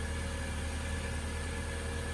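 A car engine idles in park, a steady low hum with a faint mechanical whine held evenly throughout, close and unbroken.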